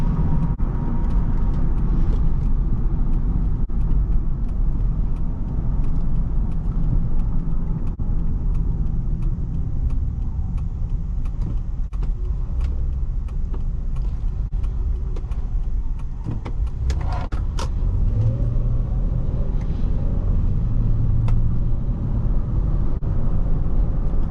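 2005 Honda Pilot EX-L SUV driving and accelerating, a steady low engine rumble and road noise heard from inside the cabin throughout, with occasional faint clicks and bumps and no talk.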